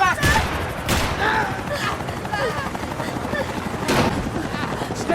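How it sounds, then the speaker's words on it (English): Gunfire in Max Payne 3: repeated bursts of shots and sharp impacts crack through a busy game battle soundscape, with voices shouting over the steady din. "Max, shoot that bastard!"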